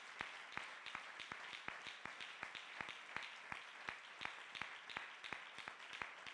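Sparse, faint handclaps from a church congregation, individual claps spaced in a loose rhythm over a quiet background.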